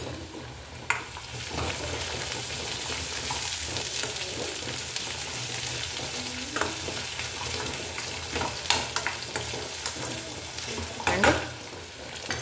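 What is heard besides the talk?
onions frying with turmeric, stirred in a pan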